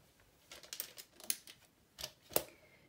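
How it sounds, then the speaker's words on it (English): A paper trimmer slicing half an inch off cardstock for a waterfall folio: a few short, crisp cutting snaps and slides spaced across a couple of seconds, close and fairly quiet. "I'm going to go ahead and trim 1/2 inch off of here"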